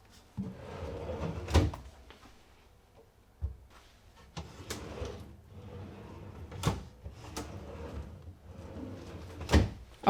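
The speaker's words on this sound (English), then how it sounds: "I can now simply click the drawers into place and they are fully installed." Plywood cabinet drawers click onto their slider rails in an entry closet build, giving several sharp, separate snaps and knocks with quiet gaps between them.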